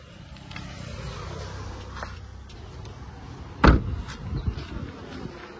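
A used Hyundai Santro's door is handled, with soft mechanical clicks and then a single solid thud of the door shutting, heard up close over a quiet background.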